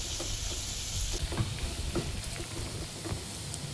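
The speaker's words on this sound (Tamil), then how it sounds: "வெங்காயம் நல்லா இந்த அளவு வதங்கினோன்னா" Chopped onions sauté in hot oil in a pan for a thin South Indian tomato chutney, giving a steady, close sizzling hiss with a few faint clicks and stirs throughout.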